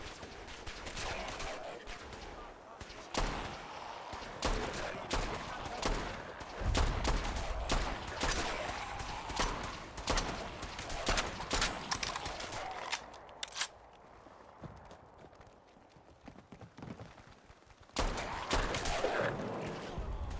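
Rapid gunfire crackles in Fallout 4, dense bursts of repeated shots with short pauses between volleys, moderately loud, thinning out briefly before resuming, no talking.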